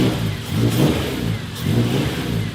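A Honda Civic engine revving through a new 3-inch flex pipe exhaust with a 3-inch to 4-inch exit, loud and close, rising and falling in two throaty pulls.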